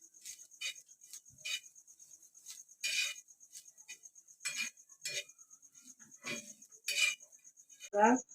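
A spoon scrapes and stirs crispy besan zunka, made from a besan pola, on a hot tawa with the gas switched off. Intermittent metallic scraping bursts sound over a faint steady high whine, close and quiet.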